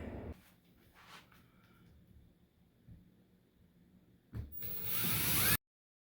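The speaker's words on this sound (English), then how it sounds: "I just want to punch through the steel stud at this point, and then I'll go through with a wood bit" A drill with a metal bit punching through a steel stud during a wall-mounted TV install, starting with faint mechanical clicks and then rising into a loud, building whir and grind near the end before cutting off abruptly.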